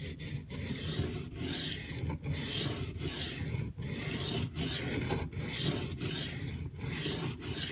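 A Rat 1 knife with a D2 steel blade being sharpened, giving a rhythmic series of gritty rasping strokes, about ten evenly spaced passes separated by brief pauses, close and clear with no voices.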